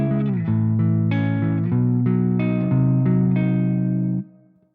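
An electric guitar runs through a Bogren Digital Ampknob amp plugin with reverb, several sustained distorted chords ringing one after another, loud and close, then fading out into a reverb tail.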